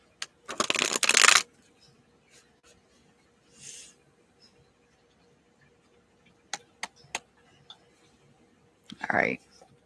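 Tarot cards are shuffled in a short, crisp riffle burst near the start, followed by quieter scattered clicks and card handling, with a brief breathy sound near the end.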